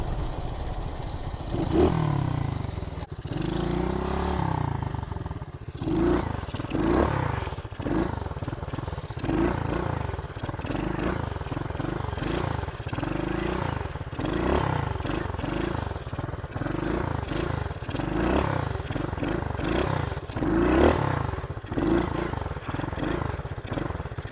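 A warmed-up pit bike engine sits at a slightly high idle, running close and steady for the whole stretch with a rhythmic, pulsing putter and occasional clatter, no voices on top.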